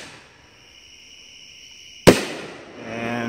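A firework set off by an electric e-match bursts in one sudden loud crack after a faint hum, followed by a crackling, hissing tail.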